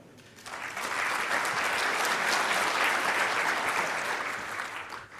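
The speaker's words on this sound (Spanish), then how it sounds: "los recibimos también con un aplauso, por favor" A seminar audience at a talk on nutritional management breaks into steady, close applause to welcome the speakers, rising quickly, holding for several seconds and fading at the end.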